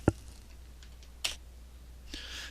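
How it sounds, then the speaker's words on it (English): Single sharp clicks of a computer keyboard key press while drafting in AutoCAD, two crisp isolated taps in a quiet room with no talking. "When I hit enter on the keyboard"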